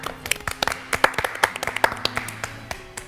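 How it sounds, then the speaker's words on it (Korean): A small group claps in a studio talk show setting, sharp individual hand claps in a loose, uneven rhythm that thin out toward the end. "네. 박수."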